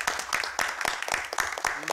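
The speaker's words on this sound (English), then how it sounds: "Round of applause for Andrew." A brief round of clapping fills a Roselle Park council meeting room, many hands striking in a quick, uneven patter that lasts about two seconds.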